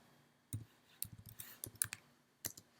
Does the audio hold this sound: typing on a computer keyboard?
yes